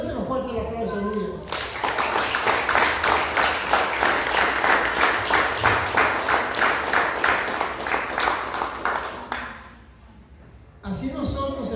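A church congregation bursts into strong, sustained applause that lasts several seconds and then fades, with a preacher's voice heard before and after.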